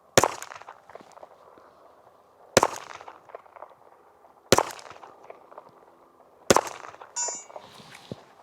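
Four loud, sharp pistol shots from a 1911 at an outdoor range, spaced about two seconds apart, each followed by a short echo, with a faint metallic clink after the last.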